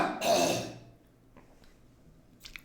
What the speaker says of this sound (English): a problem with my cough